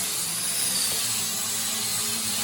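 Grinding in a workshop during a Land Rover 58 109 restoration comes through as a steady, hissing, high-pitched whine with a low rumble underneath, continuous and moderately distant throughout.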